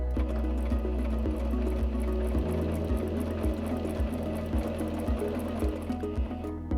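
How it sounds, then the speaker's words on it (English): A Singer C5205 sewing machine stitches a seam at a steady pace, its needle thumping in an even rhythm over a continuous motor whir, close and moderately loud with no talking. "step on the foot control again to sew your seam"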